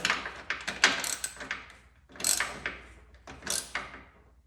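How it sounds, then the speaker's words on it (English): A screwdriver turns a screw while mounting the accelerator on an old golf cart, making three close bursts of ratcheting, grinding clicks separated by brief pauses. "So I got our handy dandy screwdriver."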